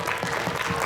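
Audience giving a standing ovation to a team, steady close clapping from many hands filling the short moment without a break.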